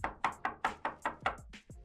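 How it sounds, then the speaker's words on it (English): A knock at a door, eight sharp raps in a steady even rhythm, close and clear with no talking. "You move to your window when you hear a knock at the door."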